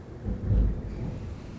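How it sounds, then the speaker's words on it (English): Thunder from an outdoor thunderstorm, a deep, muffled rumble that swells and fades within a couple of seconds with a faint rain hiss beneath it. "yes, it is thundering outside right now."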